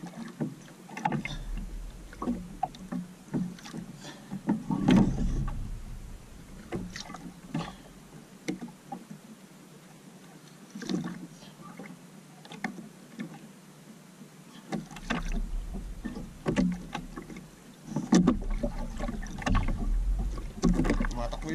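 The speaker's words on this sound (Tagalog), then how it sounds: "yung bangka natin mga kababayan ha." A small boat moves on open water with irregular splashes and knocks of the hull, wind buffeting the microphone, and a voice talking intermittently over it.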